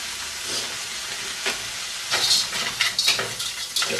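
Frozen beef mince sizzles loudly in a hot pan as a chilli is started, with scraping stir sounds and crackling bursts growing busier toward the end.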